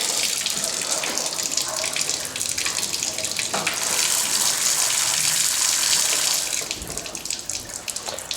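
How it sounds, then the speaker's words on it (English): Water sprays hard and loud from a clogged drain valve on old galvanized pipes, a steady broadband hiss that surges, briefly dips, then gushes on again near the end. "how it was spraying real hard, then stopped"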